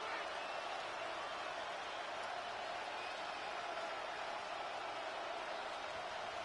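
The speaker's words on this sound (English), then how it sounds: "This crowd turning up the decibel level." Steady roar of a stadium crowd in the Madden 26 American football video game, a constant broadband wash of massed cheering that holds at even loudness throughout with no distinct voices standing out.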